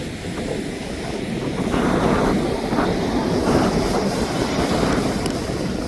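Ocean waves roll onto a beach at Mahabalipuram near Chennai, a loud continuous roar and wash of surf with wind buffeting the microphone throughout.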